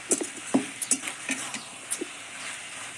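A spatula scrapes and stirs potato greens and cane greens frying in a pan, with short irregular scraping strokes over a soft low sizzle.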